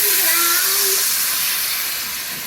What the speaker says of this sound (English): I'm going to put a 1/3 cup of white cooking wine in there.